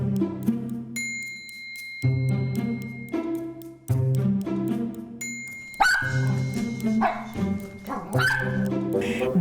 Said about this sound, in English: wiener dogs have a huge presence in Toni and Ross Nicotera's lives